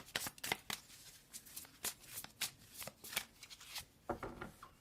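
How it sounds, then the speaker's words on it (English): Tarot cards are shuffled close up in quick riffling bursts, a rhythmic series of crisp papery flutters repeating steadily and fairly quiet, with no talk. "let's pull 2 more cards and see what the supporting messages are for you in the upcoming week"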